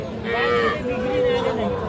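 A young crossbred heifer calf's drawn-out moo rises and falls close by at a cattle market, with people chattering faintly in the background.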